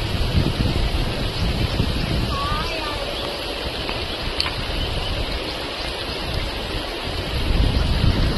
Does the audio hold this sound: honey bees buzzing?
no